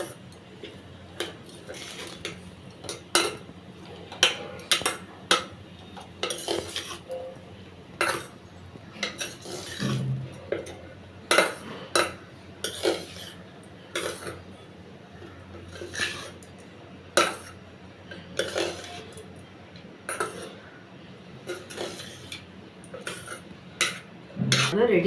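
A spoon stirring lemon rice in a metal pot produces irregular bursts of clinks and scrapes, sharp and close, with quiet gaps between strokes and faint background murmur.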